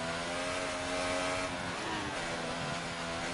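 Race car in the F1 2018 video game at the Belgian Grand Prix, sliding on a straight with DRS open, its engine a steady high-pitched drone, loud and continuous throughout.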